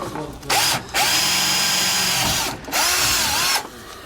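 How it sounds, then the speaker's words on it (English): A power drill fitted with a 1/8 inch bit bores a pilot hole for a rear anti-sway bar on a 2018 Jayco Greyhawk, whining loudly in three bursts with short pauses between them. "we're going to start with an 1/8 inch drill bit just to get a pilot's hole"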